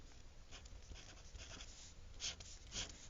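A pen writing numbers into a table on paper, a soft, steady scratching and rubbing heard close and faint, with a couple of slightly louder strokes near the end and no talking.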